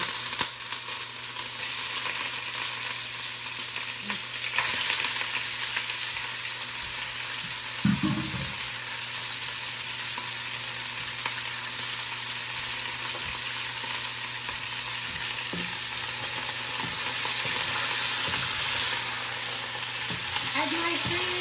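Meat for Iraqi tashreeb browning in a pan gives a steady, close hiss of sizzling fat that runs without a break, with a few soft low knocks partway through and no talking.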